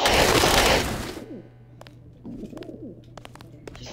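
Pigeons coo in the Deus Ex video game after a loud burst of noise cuts off, leaving a quiet ambient hum with scattered soft coos and a few sharp clicks.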